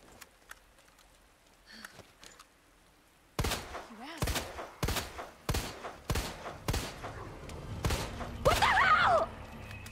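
Handgun shots in the survival horror video game Resident Evil Remake, about eight sharp, evenly spaced reports after a quiet stretch, loud and close, with a brief growl near the end.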